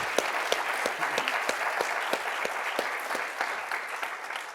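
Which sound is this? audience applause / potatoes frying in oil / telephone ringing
audience applause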